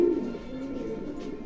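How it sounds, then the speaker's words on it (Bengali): Young racing pigeons of a foreign racer line cooing softly in a loft, a low continuous murmur of overlapping coos close by, steady throughout with no talking. "তো এটা হলো ইয়াং কবুতর"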